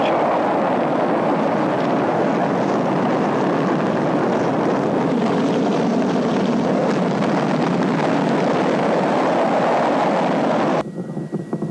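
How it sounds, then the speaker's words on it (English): A rocket engine igniting for launch, a loud, dense, continuous roar that holds steady and then cuts off abruptly near the end. "10, 9, ignition sequence start."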